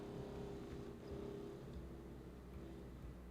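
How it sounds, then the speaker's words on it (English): A car engine rumbles and revs steadily outdoors, a continuous low throaty drone that holds at a fairly loud level throughout. "Somebody's got a car out there,"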